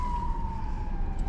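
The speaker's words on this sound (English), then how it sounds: "Sirens coming by." A siren wails steadily in the distance over a low rumble of road traffic.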